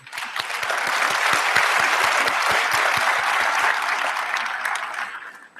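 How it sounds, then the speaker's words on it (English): Graduation ceremony audience giving a full round of applause, loud and sustained, swelling in and fading out over several seconds, with a few clearly separate claps close by. "Congratulations to all our graduates, and I think we can give them a round of applause."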